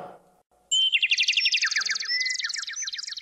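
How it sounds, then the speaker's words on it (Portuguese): A small bird chirps in quick, bright repeated notes, loud and close, starting suddenly after a brief quiet stretch and continuing rapidly to the end. "que passarinho é esse?"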